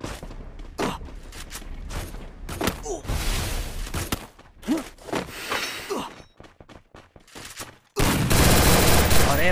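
Gunfire crackles in a Solo vs Squad battle royale video game: scattered sharp shots and short bursts, some near and some farther off, ending in a loud, dense, sustained burst.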